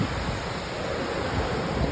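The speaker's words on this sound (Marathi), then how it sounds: "समुद्र बघा तुम्ही, खवळलेला समुद्र" Rough, churning sea waves break at Alibag beach, a steady, loud broadband roar of surf mixed with wind buffeting the microphone, with no talking.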